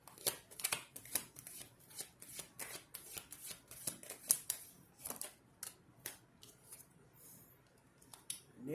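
Tarot cards being shuffled by hand at close range, a run of soft riffling and slapping bursts in an uneven rhythm, with a voice briefly speaking at the start.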